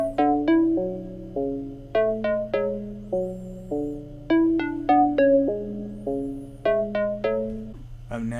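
Two synth melodies from a dancehall beat interlock, bright plucked bell-like runs answering lower sustained notes in a repeating bouncy pattern, close and full with no talking.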